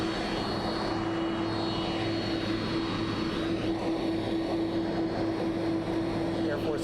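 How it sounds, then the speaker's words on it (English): Air Force One, the presidential jet, comes in to land at San Diego, its engines a steady broadband roar with a constant whine running throughout, moderately distant and unchanging for the whole stretch. "Air Force One landing."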